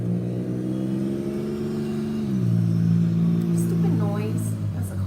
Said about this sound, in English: That's a car passing.